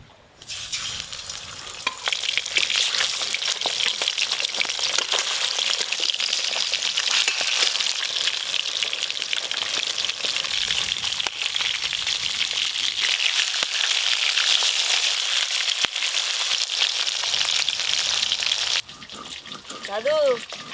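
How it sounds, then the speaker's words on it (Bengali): Fish fry in mustard oil in a pan, a loud, continuous sizzle with stirring scrapes close by, while people talk over it and the frying cuts off near the end. "এবার সব মাছগুলো ভালো করে ভেজে নেব।"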